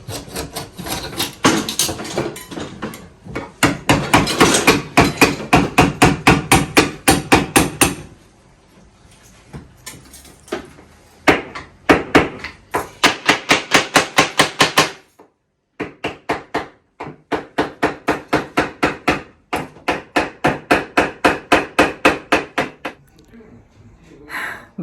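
Repeated heavy hammer blows break out an old kitchen countertop, loud rapid strikes in long bursts with short pauses, while voices talk between the strikes.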